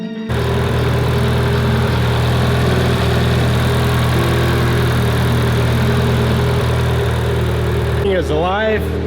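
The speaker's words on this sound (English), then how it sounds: "get some coolant in the motor and let it run for a little bit longer" A Mitsubishi Lancer Evo 9 engine runs steadily after its coolant and intake are installed, a loud, continuous close idle with a rough low rumble that starts abruptly, with a voice briefly heard near the end.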